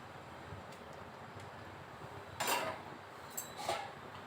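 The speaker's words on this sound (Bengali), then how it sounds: "একটা ঢাকা দিয়ে দিলাম" A metal lid clanks onto a cooking pot of simmering taro and prawns: one bright clatter, then a couple of lighter clinks as it settles, over a quiet kitchen background with no talking.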